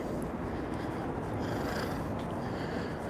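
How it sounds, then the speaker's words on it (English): A cat, apparently purring steadily, close by throughout outdoors near a stadium construction site, with a constant low rumbling background. "It's not the Anfield cat, but it's a cat."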